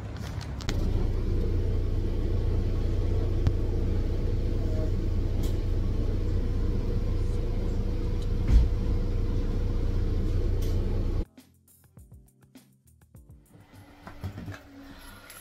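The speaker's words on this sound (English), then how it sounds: "the bus is here, so I'm going to jump on the bus quickly" Steady low engine rumble inside a bus in Ipswich, continuous and fairly loud for most of the clip before cutting to a much quieter space with faint scattered sounds.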